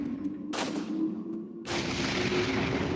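Two loud gunshots ring out in the Resident Evil 4 VR video game, each a sharp broadband blast followed by a long reverberant decay, the second firing about a second after the first, with a steady low hum beneath and no talking.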